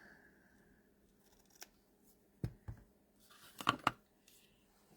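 Scissors snip the tails of a paper stamping project: a few quiet scattered cuts early on, then a tighter cluster of crisp close snips near the end, with no talking.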